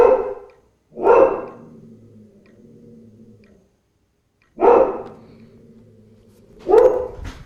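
Dogs bark in two pairs of sharp, loud barks separated by quiet gaps, each followed by a faint lingering tail, indoors with no talk.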